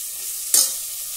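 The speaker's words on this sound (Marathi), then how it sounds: "चवळीचे दाणे घालणार आहे, मिक्स करूया" A single short scrape of a spoon turns cowpea beans in a hot pan, set against a faint continuous sizzle, brief and fairly close.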